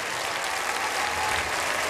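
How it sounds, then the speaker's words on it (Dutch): A studio audience at a televised anniversary concert gives the orchestra loud, dense, continuous applause, an even wall of clapping throughout. "En geef dit superorkest eens een oorverdovend applaus."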